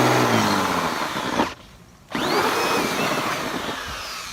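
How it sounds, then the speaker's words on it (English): A power drill fitted with a 2-inch hole saw cuts a discharge hole for a foundation drain, a loud whining grind that stops briefly, then spins back up and keeps cutting with varying pitch. "I'm using the power drill just because the other drill's occupied, but go ahead and cut that hole."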